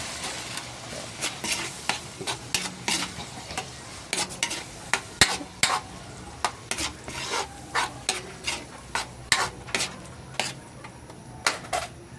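Ground pork giniling with tomato sizzling in a frying pan as a utensil stirs it, repeated scraping strokes against the pan over a steady crackling fry, close and fairly loud, no voices.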